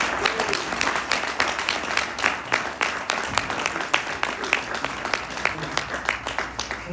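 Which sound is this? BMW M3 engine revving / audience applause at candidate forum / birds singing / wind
audience applause at candidate forum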